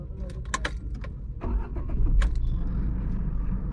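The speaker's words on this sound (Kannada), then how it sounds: "ಕಾರ್ ಸ್ಟಾರ್ಟ್ ಮಾಡೋಣ." Keys jingle inside the cabin of a 2025 Tata Tiago XZ+ manual hatchback before its engine starts and settles into a steady, low, fairly quiet idle rumble.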